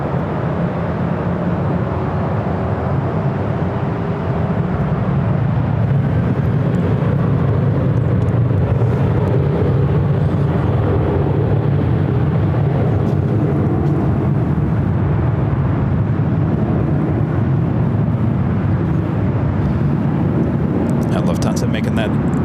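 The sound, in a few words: Southwest airliner taking off from runway 24 left at LAX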